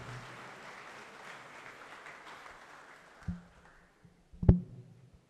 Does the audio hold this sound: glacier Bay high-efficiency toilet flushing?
no